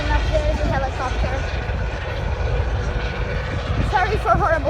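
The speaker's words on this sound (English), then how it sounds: "And here, and then up there is a helicopter." Steady aircraft engine drone from a helicopter passing overhead near Rotterdam airport, fairly loud and continuous beneath a person talking.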